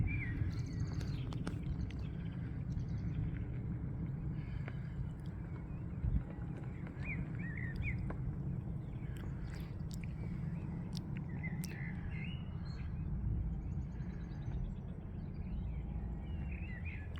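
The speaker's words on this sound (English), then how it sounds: "listen to the bird song" Faint, scattered bird chirps and calls on West Wycombe Hill at sunset over a steady rumbling background, with occasional clicks and knocks.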